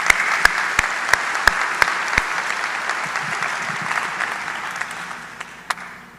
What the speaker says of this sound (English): So a round of applause for them, please.